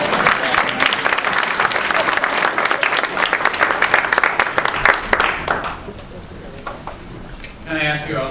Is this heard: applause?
yes